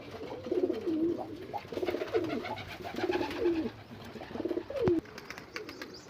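Pigeons cooing close by, a series of soft rolling coos repeating in bursts over several seconds, no talking.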